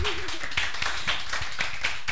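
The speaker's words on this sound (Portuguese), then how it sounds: "As palmas da galera?" Applause from a studio audience on a Brazilian TV variety show, brief scattered clapping with a few sharper hand claps standing out, fairly even in level throughout.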